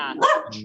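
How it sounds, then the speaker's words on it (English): A dog gives a single short bark up close, a loud, brief yelp with a quick whimpering tail and no talk over it. "that's a dog."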